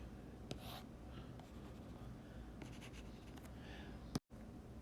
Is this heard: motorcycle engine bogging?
no